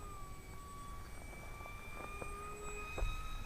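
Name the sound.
Graffiti Delta Wing RC plane flying on 3S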